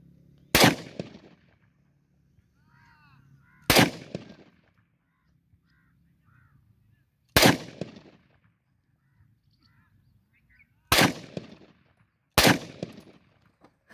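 Five sharp pistol shots from a 43-year-old TT pistol fired at bottle targets outdoors, spaced unevenly a few seconds apart, each a loud crack with a short decaying tail, with faint bird calls between.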